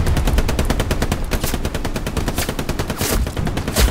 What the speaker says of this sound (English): That's the MG on that tank, isn't it?